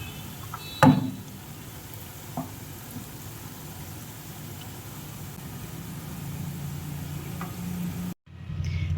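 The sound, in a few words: pointed gourd vine fritters frying in oil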